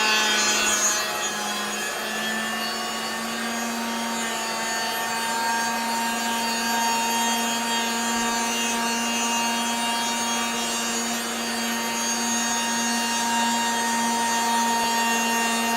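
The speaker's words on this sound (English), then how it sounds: "I'm just trying not to prevent the router head from stalling at that corner." Wood router cutting through walnut along a path, a steady high-speed motor whine with a strong constant tone and cutting rasp, continuous and close for the whole stretch.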